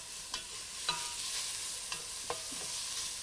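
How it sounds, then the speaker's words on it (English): Crushed garlic sizzling in a pan with basil, a steady soft frying hiss broken by a few brief stirring clicks, close and moderately quiet with no voices. "a little bit of crushed garlic. And for about 15 seconds, allow that to cook through"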